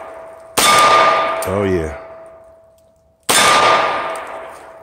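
Two loud pistol shots from a CZ-P09 fired outdoors, each followed by the long metallic ring of a struck steel target that slowly fades; someone briefly speaks between the shots.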